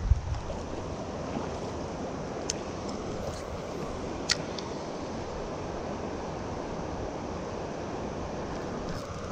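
Water rushing through river rapids on a fishing outing, a steady broadband wash with a couple of faint higher clicks, continuous and fairly close, no voices.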